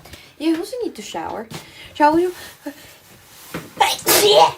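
A woman sneezes in a village home, a sharp burst near the end following close conversational speech.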